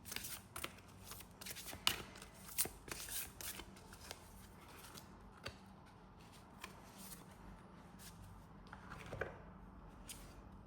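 Oracle cards shuffled by hand during a card reading, giving a soft, quiet run of papery riffles and flicks with small irregular taps and no talking.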